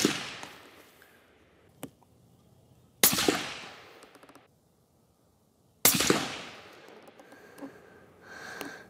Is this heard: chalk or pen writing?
no